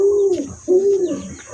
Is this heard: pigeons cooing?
yes